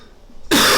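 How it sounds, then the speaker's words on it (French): A single sharp cough bursts in abruptly after near-silence, loud and close, cut off at the end. "suis désolé, je tousse."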